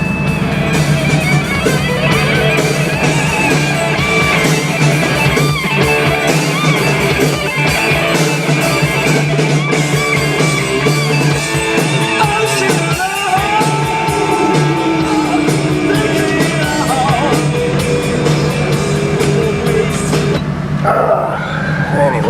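Car radio in a Bronco blaring loudly, dense music filling the cab continuously and close, cutting off near the end.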